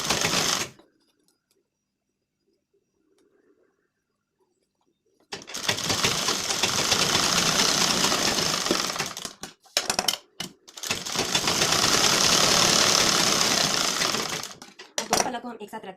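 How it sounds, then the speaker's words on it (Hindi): A sewing machine stitches along the side seam of a blouse in two long bursts of steady, fast, close whirring with short pauses between runs, preceded by a brief start and a stretch of near silence. "साइड से सिलाई लेना है"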